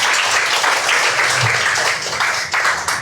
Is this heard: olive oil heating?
no